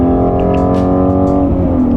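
A Ford Mustang Shelby GT350R engine revs high, holding a loud, steady whine near its 8,250 rpm redline, close and continuous, with a brief dip and recovery toward the end.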